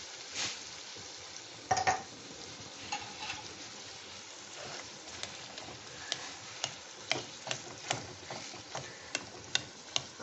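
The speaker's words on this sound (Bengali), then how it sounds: "এটা দিয়ে আমি এটা ভালো করে মিশিয়ে নিচ্ছি।" A spoon stirs a sweet dish mixture in a pan, giving soft scraping with a steady faint sizzle and scattered sharp clicks and taps against the pan over about ten seconds.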